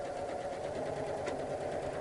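A Janome Memory Craft 6500P sewing machine stitches at a steady pace, a soft, even, continuous whirring hum heard close up with no voices.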